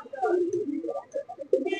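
Malwai pigeons in a loft give short, throaty coos in uneven bursts, close and moderately loud, one call overlapping the next with brief pauses between.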